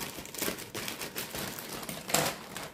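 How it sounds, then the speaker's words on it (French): Dull scissors snip and crinkle through a plastic packet of frozen fries, a run of close, uneven cutting and rustling sounds with one sharper snip near the end. "je vais couper avec un ciseau qui coupe pas bien"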